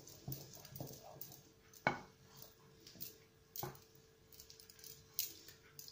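Spoon scraping and clinking against a bowl while a no-bake chocolate cake mixture is stirred, with irregular close knocks and scrapes and no talking.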